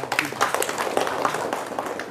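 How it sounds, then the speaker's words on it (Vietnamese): A tour group gives a short burst of moderate clapping, a steady patter of many hands lasting a couple of seconds. "Tin cho một tràng pháo tay."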